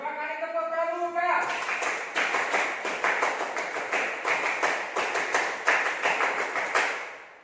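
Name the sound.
scout clap, clapping twice in rhythm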